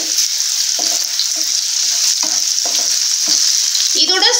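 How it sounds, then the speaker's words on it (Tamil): Garlic sautés in a pan for chutney, with a bright continuous sizzle and a series of distinct stirring scrapes and clanks from a spoon against the pan. Close and loud, with a busier clatter at the end and no speech. "ஒரே ஒரு நிமிஷம் மட்டும் இத வதக்கி எடுத்துக்கறலாம்"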